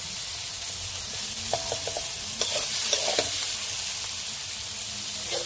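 Spice masala sautés in oil for a Bengali bhetki fish curry with a continuous soft sizzle and hiss, plus a few scattered stirring clicks and scrapes up close.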